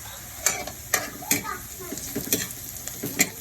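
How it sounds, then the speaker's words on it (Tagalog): Chili peppers fry in a pan with hot oil, sizzling and spattering close by, punctuated by regular sharp clacks of a utensil stirring against the pan. "Medyo matalsik pa yung luto ng sili."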